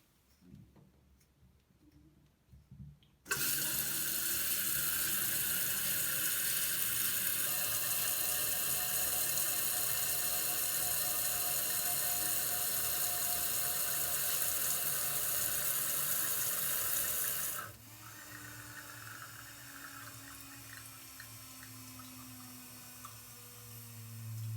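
A toilet tank refills through a Fluidmaster fill valve with a sudden loud rush of water that runs steadily for about fourteen seconds, then drops to a quieter trickle with a slowly rising hiss as the tank fills.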